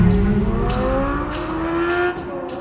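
A 2023 Chevrolet C8 Corvette Z06 engine revs hard while driving, a loud, close, rising and falling high-pitched howl with shifting tones over road noise.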